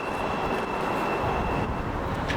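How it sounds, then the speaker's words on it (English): The Luton Airport DART, a cable-hauled mini train, runs past with a steady, loud mechanical rumble and whir, a constant drone with a faint high tone throughout. "the DART system to get up to the airport, which is like a cable-hauled mini train thing"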